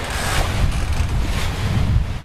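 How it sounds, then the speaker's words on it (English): Steady wind roar and ocean waves rushing past a classic catamaran sailing a beam reach in about 10 knots of wind, loud and continuous with heavy low-end wind buffeting on the microphone. "The wind's a little lighter than I thought it would be."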